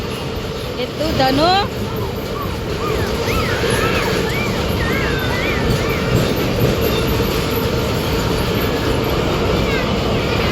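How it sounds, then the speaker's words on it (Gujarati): A train rolls past close by at a railway station, producing a loud continuous rumble and rattling of wheels on track that fills the whole stretch, while excited voices talk and call out over it. "ગઈ આ ટ્રેન આવે છે ને આપણા પાટા પાસે."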